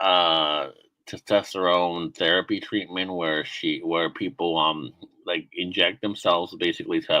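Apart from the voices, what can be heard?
No everyday noise stands out behind the speech.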